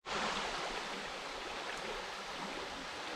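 Falling Creek Falls, also called Rootbeer Falls, roars as a loud, steady, broadband rush of cascading water, close and continuous with no voices.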